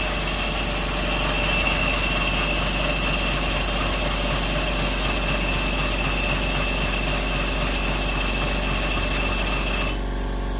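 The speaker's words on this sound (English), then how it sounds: "Now I start the engine." An RC model locomotive, an LGB Mallet 7s live-steam engine that is coal fired, runs with a steady close mechanical hum and buzzing drone that holds level and then drops off near the end, with no talk.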